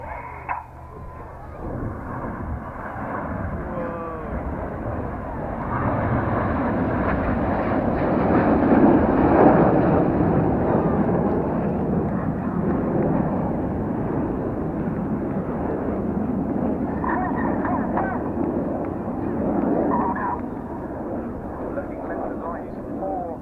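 Red Arrows jets at the RAF Cosford airshow, descending about 100 feet above the runway, make a broad rising and falling roar that swells toward the middle and stays loud throughout.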